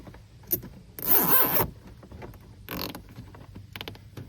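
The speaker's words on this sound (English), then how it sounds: "So we are going to just re-zip tie it up in here." A zip tie being ratcheted tight to secure the front wheel speed sensor wire on a 4th gen Ram pickup, heard as a few short, close zipping bursts between small handling clicks, with no talking.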